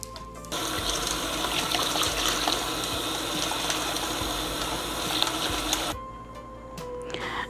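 Chana dal being rinsed under running water in a sink, a steady, loud rushing splash that holds for about five seconds and then stops, close by with no talk.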